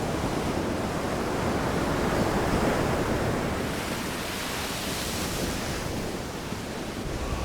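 Ocean surf washes steadily onto the seashore, a dense continuous roar of breaking waves that swells slightly and then eases toward the end, with no voices.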